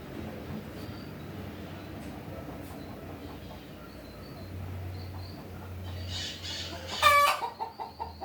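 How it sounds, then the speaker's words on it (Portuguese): A hen clucks faintly nearby, then lets out a louder burst of calls near the end over a low background hum. "tive que dar pausa aqui porque a galinha começou a cantar ali"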